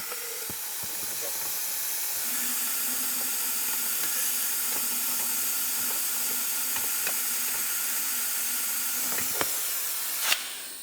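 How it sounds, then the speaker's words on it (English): A steady, airy hiss of a fluid vacuum extracting power steering fluid from a 1998-2002 Lincoln Navigator reservoir, with faint gurgling ticks and a brief louder burst near the end. "I've got my fluid vacuum."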